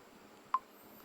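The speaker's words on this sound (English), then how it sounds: "So now your tap sound on your phone is active." A single short, crisp tap tone from an Android phone's screen touch sound, heard once and close against faint background hiss.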